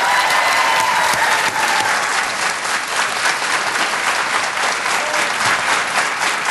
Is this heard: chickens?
no